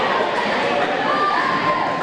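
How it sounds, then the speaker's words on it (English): Crowd noise from spectators at a girls' high school volleyball match against Bexley in a gym, a steady roar of cheering and chatter throughout with no clear break. "it sounds like the Raiders are trying to do a little bit more cheering here"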